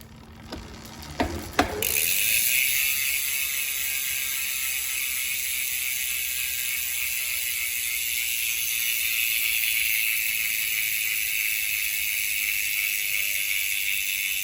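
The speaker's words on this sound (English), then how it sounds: "let's go ahead and do a free hub sound" The freehub ratchet of a 2022 Specialized Stumpjumper Alloy mountain bike buzzes in a fast, continuous clicking whir as the wheel spins freely, loud and close, after a couple of brief knocks.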